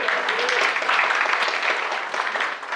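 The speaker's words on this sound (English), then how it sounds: "Yes, that deserves applause too." Dense, steady clapping from an audience at an arts awards ceremony, continuous and fairly loud across the whole stretch with no talking over it.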